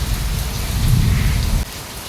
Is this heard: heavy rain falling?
yes